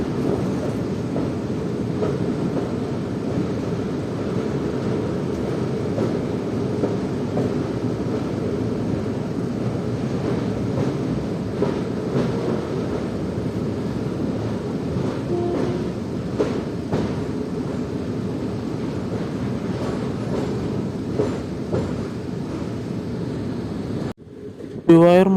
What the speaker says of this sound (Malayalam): ഗുരുവായൂർ മധുര എക്സ്പ്രസ് അതാ ആലുവ റെയിൽവേ സ്റ്റേഷനിൽ എത്തിയിരിക്കുക കേട്ടോ.